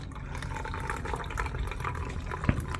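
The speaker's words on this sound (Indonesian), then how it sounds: "Untuk air hangatnya sedikit dulu ya. Jadi kita masukkan seperti ini." Warm water poured in a small amount into a container, a soft continuous trickling and splashing at low level with a faint knock near the end.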